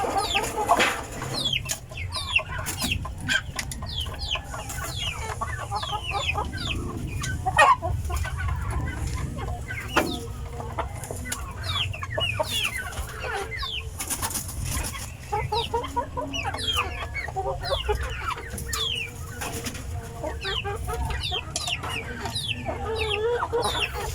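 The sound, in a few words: Rhode Island Red rooster and free-range chickens clucking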